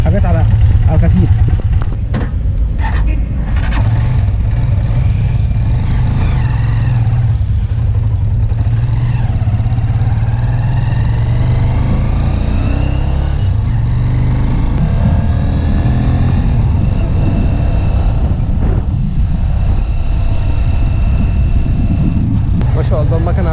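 A Chinese motorcycle engine runs with a smooth, steady low hum throughout, with occasional clatter, while someone talks continuously over it.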